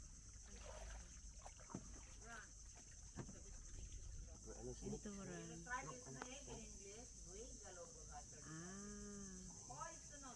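Steady high-pitched cricket chirring in mangroves in Palawan, Philippines, runs throughout, with warbling calls rising over it in the middle and near the end.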